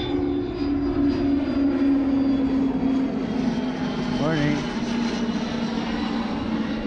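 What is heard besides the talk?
chartered jet aircraft flying overhead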